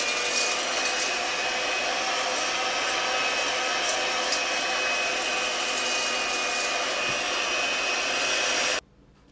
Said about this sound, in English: I have to beat the white egg until it's very fluffy.